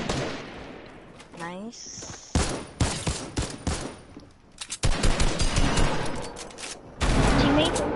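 Bursts of gunfire from an opposing team in an online shooter game crackle in rapid volleys, loud and clustered in the second half, with players talking over the shooting.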